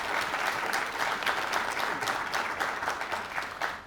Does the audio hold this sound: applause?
yes